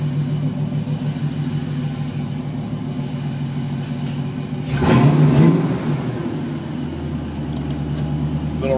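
A 1987 Mustang GT idles in a garage after a drive, with a steady low rumble. About midway it gives one short rev that swells and drops back, then settles into a deeper idle.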